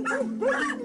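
A dog at an animal hoarder rescue gives a short, close, rising-and-falling whining bark, two pitched yelps in under a second with no talk over them.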